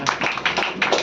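An audience in a class claps to welcome guests, a quick burst of several close, bright claps over about a second.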